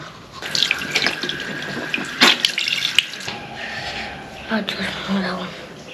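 Water pours from a tap into a sink in a continuous splashing stream, with clinks and knocks of handling and voices talking over it.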